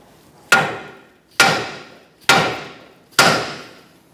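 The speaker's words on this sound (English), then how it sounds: "After removing your castle nut, you're going to strike it right here." Four hard, evenly spaced hammer blows on the steering knuckle of a 2014-2019 Kia Soul to free the outer tie rod, each a loud metallic clang ringing briefly, struck close by, with no talking.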